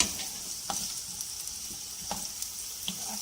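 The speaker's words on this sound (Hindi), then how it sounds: "प्याज को हम लाइट गोल्डन ब्राउन करेंगे" Onions frying in oil toward light golden brown for an egg and potato korma, a soft continuous sizzle close by, broken by a few sharp clicks of a spoon against the pan.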